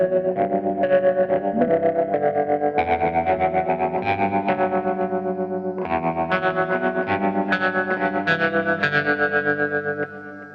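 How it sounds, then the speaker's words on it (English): An electric guitar played through a Kemper Profiler with an expression pedal rings out in sustained, heavily effected chords with distortion, chorus and echo, the harmonics and tone shifting as the pedal sweeps, played alone with a rhythmic pulsing. "I just went with the pedal into the toe position, and the tones, the harmonics, they changed"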